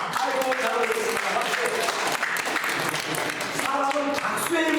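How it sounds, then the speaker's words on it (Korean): A church congregation claps together at a pastor's invitation, a dense, steady wash of applause filling the room, with voices audible beneath it. "그런 의미에서 옆에 분들을 위해서 박수 한번 쳐주실래요?"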